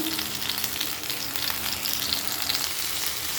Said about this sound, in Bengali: কিছুটা রসুন কুচি দিয়ে দিলাম আর একটু ভেজে নেব ওই তেলের ভিতরেই